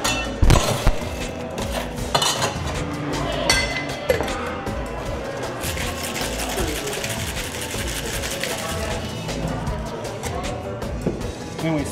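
A cocktail made with bacon-infused bourbon is shaken briskly in a shaker, giving a steady rattling, clinking rush of ice against metal that runs throughout at close range, with voices talking underneath.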